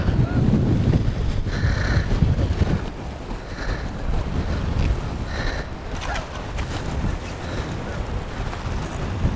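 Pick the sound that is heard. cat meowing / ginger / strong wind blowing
strong wind blowing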